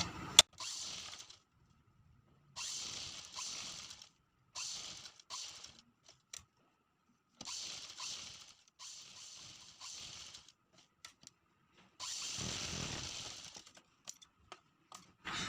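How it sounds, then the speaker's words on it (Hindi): A sewing machine stitches a folded full-sleeve fabric hem in short, close whirring runs, broken by quiet gaps and faint handling clicks. "अब इस कपड़े को हमें इस तरह से फोल्ड करके सिलाई लगा देना है।"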